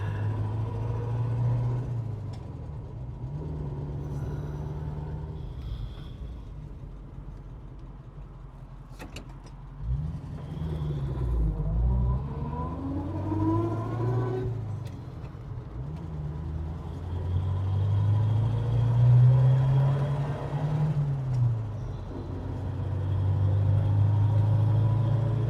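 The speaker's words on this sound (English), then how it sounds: "We're going to take the Buick down the road." A 1948 Buick Super Woody Wagon drives down the road, its engine rumbling steadily and rising and falling through several gear changes and accelerations, close and moderately loud with no talking.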